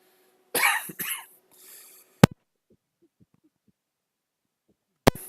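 A person gives two quick, harsh coughs close to the microphone, then a fainter throaty sound. Quiet stretches follow, broken by a couple of sharp clicks.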